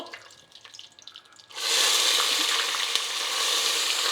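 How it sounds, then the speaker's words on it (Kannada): Split lentils hit a pan for avarekalu khichdi, a quiet start giving way to a sudden loud, steady hiss of frying that carries on close up. "ಇದ್ಕಿದ ಬೇಳೆ ಮೊದಲು ಫ್ರೈ ಮಾಡ್ಕೋಬೇಕು"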